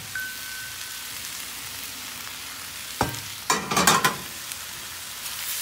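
Pre-cooked rice noodles for pad thai hit a hot pan with a low, steady sizzle, then a brief burst of clattering stirring and sharper crackles near the end, with no voices.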